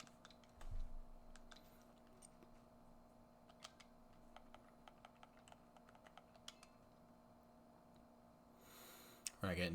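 Quiet, intermittent clicks of typing on a computer keyboard, irregular keystrokes over a low steady hum, ending in a short louder rustle.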